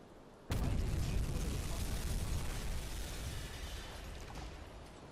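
A torpedo strikes a C3 freighter in the submarine game UBOAT: a sudden heavy blast hits after half a second of quiet, then a long rumbling roar that slowly fades over several seconds, with no talk.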